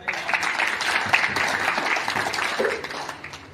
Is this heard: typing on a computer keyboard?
no